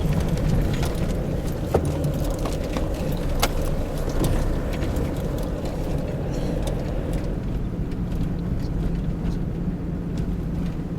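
A four-wheel drive vehicle crawls over a rough, humped bush track in Carnarvon National Park, its engine rumbling steadily throughout with rattling and knocking jolts from the cabin.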